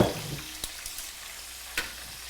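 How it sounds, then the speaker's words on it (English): A steady hiss of chicken wing flats frying in oil, with a few faint clicks and pops over the continuous sizzle. "We have our wing flats frying."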